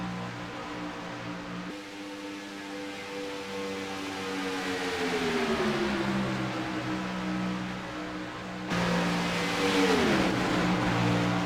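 Several race cars run together in a pack around a track, their engines droning loudly as they sweep past in waves, the pitch falling as each group passes, with a sudden louder surge near the end.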